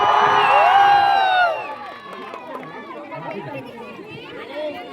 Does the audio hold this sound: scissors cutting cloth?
no